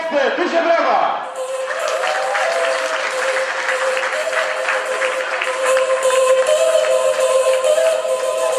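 Audience applause at a Super Saturday live seminar event in Poland, a loud, sustained wash of many hands clapping from a large crowd, with a voice speaking briefly at the start.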